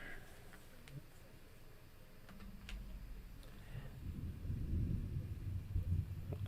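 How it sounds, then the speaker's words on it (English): Distant thunder from a storm near Sunbury, Pennsylvania rolls in as a low, faint rumble that swells in the second half beneath light ticking background noise. "I don't know if you heard that rumble."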